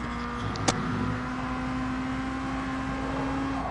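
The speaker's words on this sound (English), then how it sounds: "full spool on that turbo" A turbocharged Honda engine in a racing video game holds a steady high-rpm drone with a constant whine, nearly unchanged throughout, with one brief sharp click near the start.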